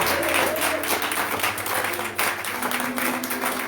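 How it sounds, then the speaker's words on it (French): A congregation claps loudly and steadily throughout a French-language thanksgiving church service in Baltimore, with dense, sustained applause filling the room. "Acclamez du fond de votre cœur pour les intercesseurs"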